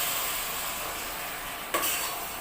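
Pork sautés with garlic and onion in a pan for pochero, producing an even, continuous sizzle close by, broken once by a brief stir or scrape against the pan.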